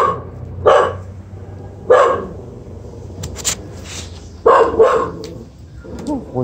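A dog barks in several loud, sharp bursts spaced a second or two apart, with quieter background noise between the barks.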